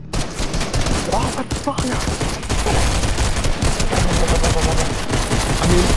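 Sustained automatic gunfire in a Fortnite horror map, loud rapid bursts of shots rattling continuously throughout, with a player's startled exclamation over the shooting.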